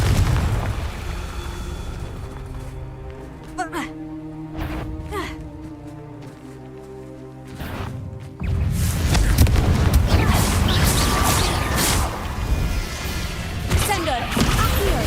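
The Confringo fire spell bursts in Hogwarts Legacy. A quieter stretch with scattered pops gives way to a sudden loud blast that rolls into a sustained roaring rumble of fire and debris.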